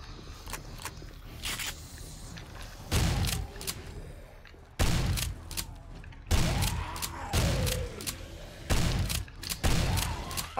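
Gunfire in the survival game 7 Days to Die: several heavy shots spaced a second or two apart, each a sharp crack with a booming low tail, over quieter background clatter.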